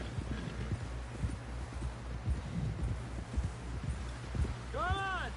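Horse hooves clip-clop in a steady walking rhythm on a dirt trail in Red Dead Redemption 2, with a horse snorting and whinnying near the end and a voice speaking over it.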